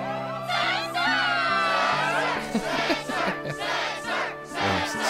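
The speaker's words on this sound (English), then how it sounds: "the crowd is fired up" A cheering crowd in the Kingdom Hearts 2 video game, loud and sustained, with shouts and whoops swelling throughout and excited voices rising over a steady game music bed.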